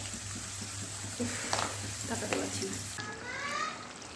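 Chicken fries in a pan with a constant dense sizzle and crackle, and stirring scrapes now and then. A low hum runs underneath, and a faint voice appears near the end.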